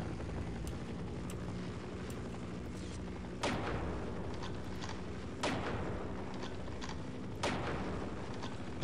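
Rocket launcher fire in Half-Life: Opposing Force, three sharp blasts a few seconds apart over a steady, rumbling game background, each burst loud and close with a quick decaying tail.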